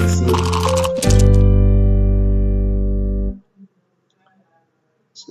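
A Wordwall game plays a shuffle sound effect: a rapid rattling flurry of clicks, then a sustained electronic tone that cuts off abruptly, followed by near silence with a faint voice at the end.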